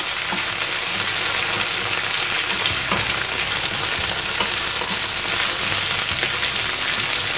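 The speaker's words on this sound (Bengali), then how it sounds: "এইটা এখন একটু ভেজে নিতে হবে।" Steady, loud sizzling of food frying in a pan, a dense crackling hiss with occasional soft stirring scrapes.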